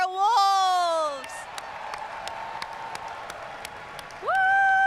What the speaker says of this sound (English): let's applaud our West Mercer Wolves